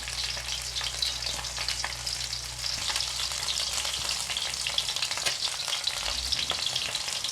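Fish frying in a pan gives a dense, steady high sizzle and crackle with light spattering, close and continuous for several seconds with no talk.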